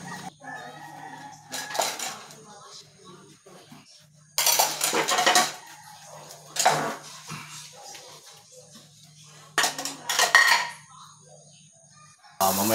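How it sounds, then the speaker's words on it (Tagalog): Plates, pots and cutlery clink and clatter in bursts while being washed, with quiet stretches between, and a rooster can be heard faintly in the background. "Tuloy natin ang paghuhugas ng pinggan"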